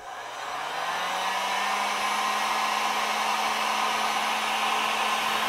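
A heat gun blows steadily to shrink heat-shrink tubing over camper tail light wiring, its airflow ramping up in the first second and then holding a loud, even roar with a faint tonal whine, no voices.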